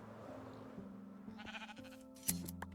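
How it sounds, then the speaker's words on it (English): Sheep bleat in the video game Minecraft, a few short, faint calls set among soft game sounds and a brief chime-like burst near the end. "There's another sheep here."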